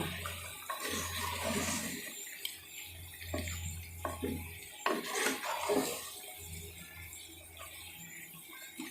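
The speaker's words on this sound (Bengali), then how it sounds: "মাংসটা অনেকটা জল ছেড়ে দিয়েছে এবার ভালোভাবে নেড়ে দেবো" A chicken curry is stirred in a clay pot after the meat has released a lot of water. Close, intermittent scraping and wet sloshing strokes come in uneven bursts over a steady low hum.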